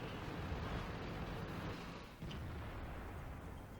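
Tank gunfire in World of Tanks rumbles faintly as a dull, low roar of distant blasts, with one sharper thud a little past the midpoint before the noise eases slightly.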